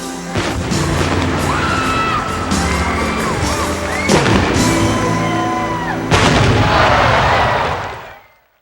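Fireworks over Atlanta after a Braves baseball game that ended before dawn, a dense rolling barrage of booms and bangs with crowd cheering and shouting beneath, sustained throughout and fading at the end.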